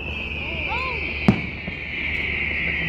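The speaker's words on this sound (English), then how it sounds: "That's a lot of firecrackers." Firecrackers go off outdoors, a single sharp crack standing out over a steady high whine and background hiss, with a fainter pop after it.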